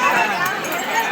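Crowd bustle on a busy, packed street, a dense continuous babble of many voices close around, with people talking nearby.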